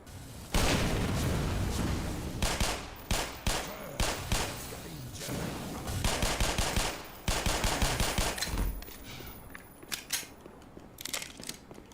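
Rapid Glock pistol fire in the shooter game Black Mesa, loud sharp repeated shots in quick bursts with brief pauses between volleys, close and punchy.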